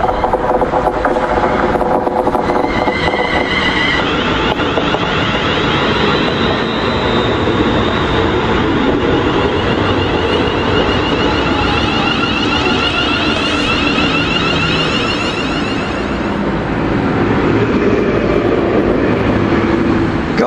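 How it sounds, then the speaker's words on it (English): A train bound for London Euston rumbles past steadily and loudly at Long Buckby for the whole stretch, with rail noise and a constant broad roar, no talking. "Train going to London Euston."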